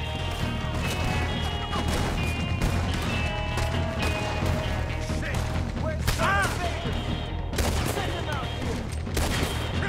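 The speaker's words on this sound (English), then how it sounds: "Leave me to the Gatling gun." Rapid Gatling gun fire in Red Dead Redemption 2 rattles on as a dense, continuous volley over a busy battle mix, with shouting voices and game music layered throughout.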